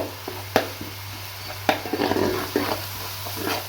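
Onion paste with turmeric fries in a pan for an Andhra crab curry, with a low sizzle under irregular spoon scrapes and clinks against the pan, some sharp and close.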